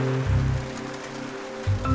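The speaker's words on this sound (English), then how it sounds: "It's raining." Rain falls steadily outdoors with a soft, even hiss, and low rumbling swells rise and fade under it.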